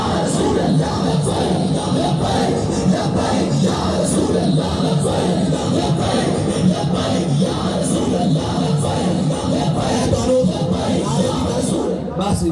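Large crowd at a religious speech by a religious leader, chanting and shouting together in a loud, continuous roar, with raised voices rising and falling throughout.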